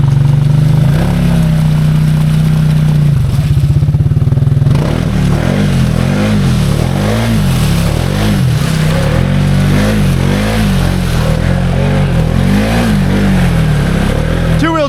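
Can-Am Outlander ATV on 33-inch tires with XMR700 gear reduction, its engine droning loud and steady up close and rising and falling in repeated revving surges in low range.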